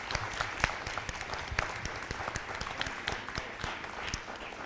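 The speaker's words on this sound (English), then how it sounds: "And let's give them a round of applause." An audience at a Board of Education candidate forum applauds steadily, many hands clapping in a dense, even patter at moderate distance with a few sharper individual claps standing out.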